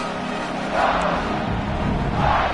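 A stadium crowd in an NCAA football video game roars steadily, with two louder swells of cheering rising over the dense, continuous murmur.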